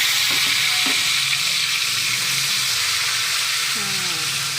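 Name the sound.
spice paste frying and sizzling in oil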